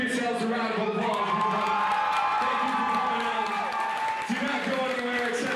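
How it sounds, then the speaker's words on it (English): Crowd at a battle of the bands event cheering and applauding themselves, a loud, continuous wash of clapping, whoops and shouting voices that stays dense throughout with only a brief dip near the end. "Give yourselves a round of applause."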